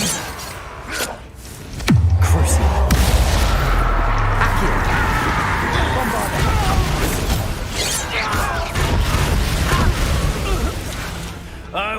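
Spell-blast explosions from the Bombarda charm in the video game Hogwarts Legacy: one sharp crash and boom, then a long loud rumbling, crackling stretch of combat noise with faint game voices underneath.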